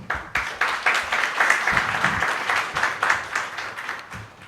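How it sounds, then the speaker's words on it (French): Audience applause at a Ministry of Commerce and Industry launch event, a steady dense wash of clapping from a room of people lasting several seconds at moderate level, with no speech over it. "nous vous prions d'applaudir le ministère du Commerce et de l'Industrie pour cet effort ô combien"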